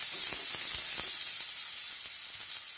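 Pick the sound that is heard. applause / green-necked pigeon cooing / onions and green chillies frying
onions and green chillies frying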